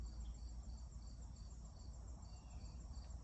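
Spring peeper frogs call at night in a dense, faint chorus of high-pitched chirps that pulses steadily in the distance over a low rumble.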